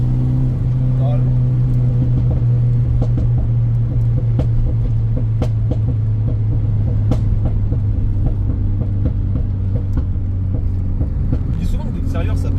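Renault Mégane 3 RS engine and exhaust, a constant loud low rumble heard from inside the car, with voices talking throughout.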